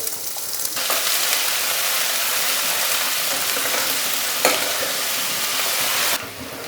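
Chopped ginger and garlic frying in a pan for Punjabi kadhi pakora, giving a loud, dense, unbroken sizzle that stays level for several seconds before easing off at the end.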